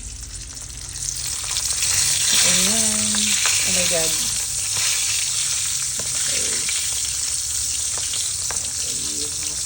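Dried salted fish (tuyo) frying in a home kitchen pan, a steady loud crackling sizzle throughout, with a woman's brief exclamations and short remarks over it.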